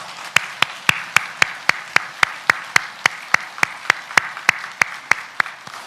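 A church congregation claps together in welcome, sharp hand claps landing in a steady, evenly spaced rhythm roughly three per second, close and crisp over a quiet background.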